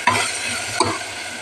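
Rice frying and being stirred in a pan for Bengali khichudi, with two sharp scraping strokes of the spoon over a steady soft sizzle, close and alone.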